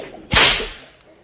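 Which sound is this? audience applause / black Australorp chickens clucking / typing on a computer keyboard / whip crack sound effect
whip crack sound effect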